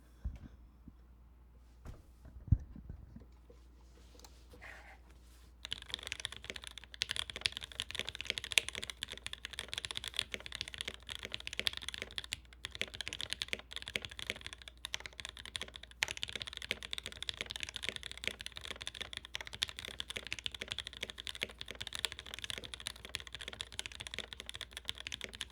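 Steady, fast typing on a clacky mechanical keyboard, a custom build, starts after a few quiet seconds and continues as a dense stream of close, crisp keystrokes.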